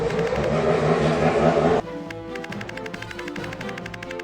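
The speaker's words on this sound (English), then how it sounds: "That was a loud motorcycle or something." A loud motorcycle passing outside an open window, a close, roaring engine that surges and then drops off abruptly, leaving a quieter game soundtrack with tones and steady pulsing beats.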